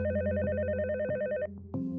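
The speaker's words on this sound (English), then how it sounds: "That is, until Donna received a phone call" A telephone rings with a warbling electronic trill, two bursts of fairly quiet ringing separated by a brief pause.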